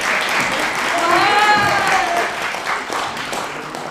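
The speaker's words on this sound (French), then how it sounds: "on peut l'applaudir quand même, hein." Audience at a mentalist magic show applauds a volunteer, a broad steady clapping that swells then eases, with a voice rising briefly above the applause.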